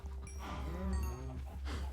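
Hungry cows in a farming video game moo in a single drawn-out, low call, heard close and clear with faint background music.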